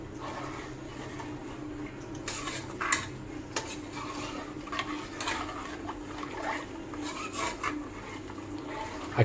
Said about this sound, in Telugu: ఇది ఇప్పుడు ఉండలు లేకుండా మిక్స్ చేసుకోవాలి